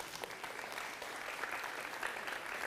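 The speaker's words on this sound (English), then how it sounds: "Can anybody give her a big round of applause?" Audience at a talk on workplace gamification giving a round of applause, a sustained, even patter of many hands clapping for nearly three seconds, moderately distant and without speech.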